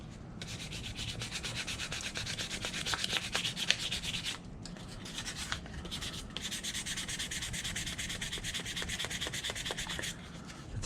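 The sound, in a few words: sanding a horseshoe knife handle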